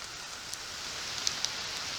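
Rain falls steadily in the woods where a campfire is being built from wet wood, making an even, continuous hiss with a few faint sharper drops tapping through it, and no voices.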